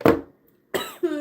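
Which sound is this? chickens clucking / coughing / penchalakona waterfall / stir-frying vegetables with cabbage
coughing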